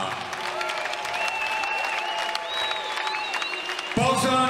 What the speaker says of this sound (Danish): med et stort bifald i det blå hjørne